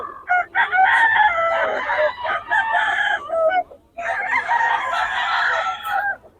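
Roosters at a Bocaue market day crow loudly and close by in two long, strained calls separated by a short pause, with clucking around them.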